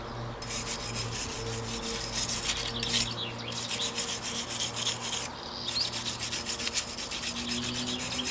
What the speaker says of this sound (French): Toujours nettoyer à la brosse métallique le moyeu.